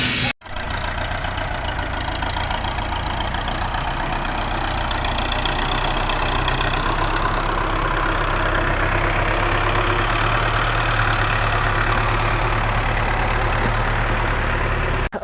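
A motorcycle engine runs steadily at idle after repair, a loud, continuous low rumble with a slight knocking texture that starts abruptly and holds even for the whole stretch with no speech.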